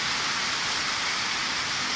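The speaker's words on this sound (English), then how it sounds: "it's raining so hard." Heavy rain pours down at night in Thailand, a steady, dense hiss of water striking surfaces that holds at an even level throughout, with no talking.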